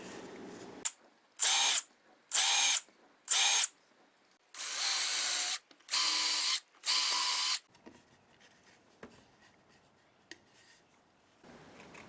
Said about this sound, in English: And I'm going to drill on this edge.